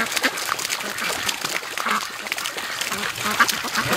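Farmyard ducks in a flock kept for raising, quacking in a busy, overlapping chorus at moderate distance, steady throughout with no talk over it.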